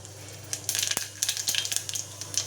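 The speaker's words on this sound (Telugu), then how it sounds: "నూనె కాగిన తర్వాత జీలకర్ర," Cumin seeds sizzle and crackle in hot oil, a steady close-up frying hiss with scattered sharp pops and crisp bursts, fairly quiet, with no talk.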